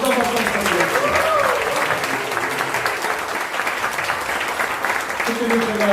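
An audience at a training-completion and appointment ceremony applauds members of the press, a dense, sustained round of clapping from a roomful of people that holds steady for several seconds.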